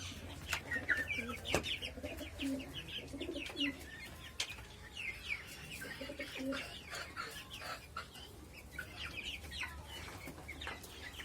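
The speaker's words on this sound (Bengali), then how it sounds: "এই পাশে আমার কবুতরের খামার" A flock of pigeons at a pigeon farm calls steadily over a low background drone, with soft low cooing mixed in and occasional sharp taps.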